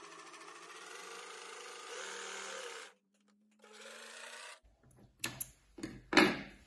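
Twin-needle sewing machine stitching a hem on a T-shirt edge: a steady mechanical whirring run for about three seconds, a pause, a shorter second run, then scattered clicks and handling noises at close range.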